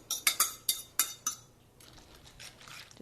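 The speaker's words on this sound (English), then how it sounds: "Just give that a stir." A spoon stirring oats soaking in hot milk in a bowl, several sharp clinks of metal against the dish in quick succession, then softer scraping and light taps, close and alone.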